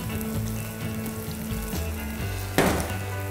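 Rice sizzles steadily in a frying pan with mushrooms, asparagus, shrimp and a little onion, a continuous close crackle with a brief louder burst of hissing near the end.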